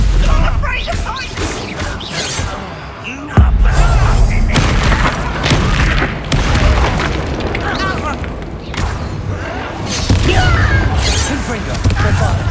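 Confringo and Bombarda spell explosions in Hogwarts Legacy, loud booming blasts and crashes in quick succession, layered with combat effects and a voice shouting over them.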